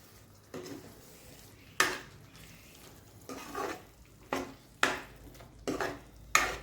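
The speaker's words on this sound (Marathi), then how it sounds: "आपण ह्याला चांगलं मिक्स करून घेतोय." Drumstick curry with black masala stirred in a pan, a spoon scraping and clinking against the metal in several separate sharp strokes, close and fairly quiet, with no talking.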